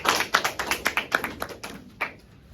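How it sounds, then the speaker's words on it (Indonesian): A group of children clapping for their classmates' team in a classroom, a short run of distinct rhythmic claps that thins out and stops after about two seconds. "Tepuk tangan untuk kelompok 2."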